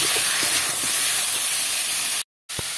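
Teasel gourd sautéing in a pan with salt and turmeric gives off a loud, steady sizzling hiss that cuts out abruptly for a moment and then resumes.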